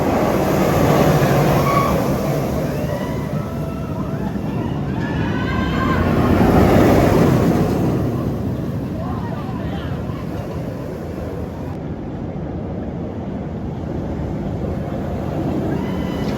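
A Superman flying ride at Six Flags Over Georgia roars past with a steady rush of wind and rumbling machinery. The noise swells to a louder peak midway, then settles back to a constant whoosh.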